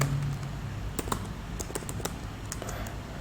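Code typed on a computer keyboard, a steady patter of close, crisp key clicks with a few sharper taps, alone without speech.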